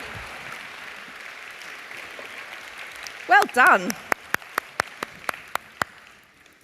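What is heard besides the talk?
audience applause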